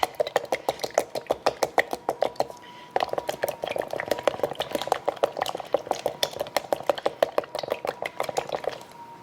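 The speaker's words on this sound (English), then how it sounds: "so I'm just going to quickly beat that egg" A fork whisks an egg in a bowl for gingerbread mix, giving a fast, steady run of close, sharp clicking taps with a brief pause near the start, while a voice talks over it.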